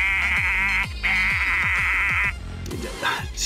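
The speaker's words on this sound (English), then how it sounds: "I make really annoying goat sounds at you the whole time" A goat bleats repeatedly in the video game Payday 2, several loud, wavering calls close up, each stretched and nasal, with short gaps and busy game sounds underneath.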